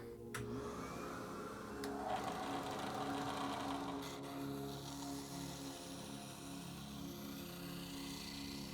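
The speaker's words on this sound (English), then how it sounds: "Let's give her a little test with a vacuum." A belt sander runs steadily with a shop vacuum attached for dust extraction, a continuous loud motor drone and airflow roar throughout, with no talk.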